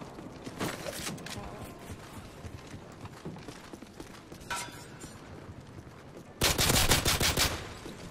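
Video game gunfire rattles out in short bursts of shots, with a louder, dense volley near the end, over a busy backdrop of game sounds.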